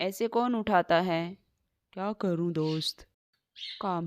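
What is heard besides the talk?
No everyday noise stands out behind the speech.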